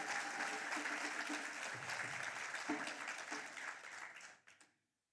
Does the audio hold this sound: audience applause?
yes